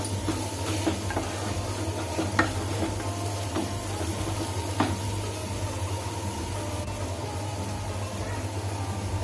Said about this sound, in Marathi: मसाला चांगला तेलामध्ये परतून घ्यायचा.